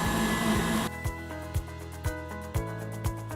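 Electric stand mixer beating red velvet cake batter: a loud steady motor whine cuts off abruptly, then the beaters keep knocking against the bowl in slowing rhythmic thumps roughly every half second.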